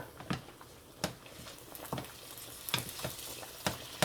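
Ingredients for baked spaghetti stirred together in a bowl, with close, repeated wet scraping and squishing strokes at an irregular rhythm, fairly quiet and without speech.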